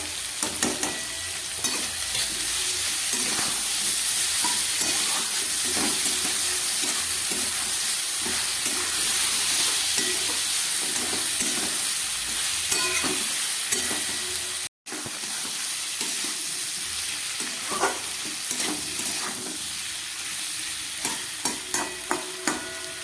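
Ground cumin and chilli powder frying in a pan of mixed vegetables: a loud, dense, continuous sizzle with spatula stirs and scrapes popping through it, close up, broken by one brief cut near the middle.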